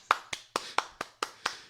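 A single person claps alone in a small home studio, producing seven sharp, evenly spaced claps at a steady, moderate pace, close and clear.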